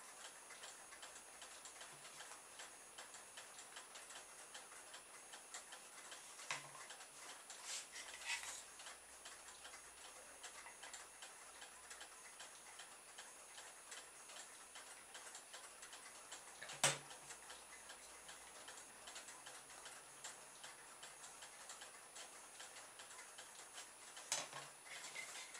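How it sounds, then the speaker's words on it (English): Solar-powered rocker toys tick steadily like clocks in a quiet room, a faint, even ticking texture with a few slightly louder clicks standing out. "solar rockers are going well in the background. It's like a clock shop in here."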